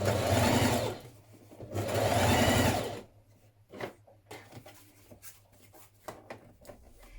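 A home sewing machine runs in two short bursts while understitching a skirt front toward a lining pocket, followed by quieter clicks and handling of fabric and tools.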